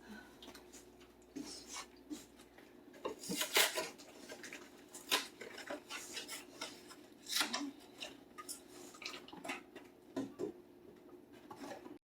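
Scissors click and snip in short irregular bursts, close by in a quiet room, with small handling rattles between.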